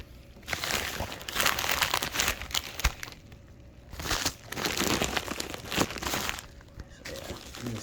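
A comic book being unwrapped from six or seven layered paper envelopes, with close, loud crinkling, rustling and tearing in continuous bursts and a few short lulls, while a person speaks briefly.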